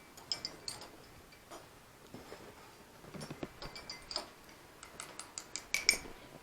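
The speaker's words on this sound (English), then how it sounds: "Now we're going to stir that together." Spoon stirring pie shell dough ingredients in a bowl, light irregular ticks and taps against the sides, faint and close, growing busier toward the end with no talking.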